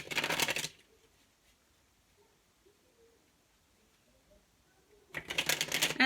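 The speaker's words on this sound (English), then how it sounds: "I'm going to pull some more cards." Tarot cards are shuffled in two short, loud rustling bursts, one at the start and one at the end, with a long near-silent stretch in between.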